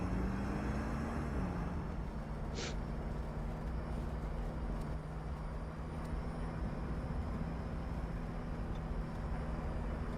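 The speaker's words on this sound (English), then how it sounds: "there's a helicopter" A helicopter in a video game drones steadily overhead as a continuous low rotor and engine rumble with a faint whine, holding even and fairly far off for the whole stretch, with no talk.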